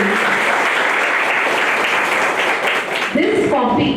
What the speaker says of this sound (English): a big round of applause for our alumni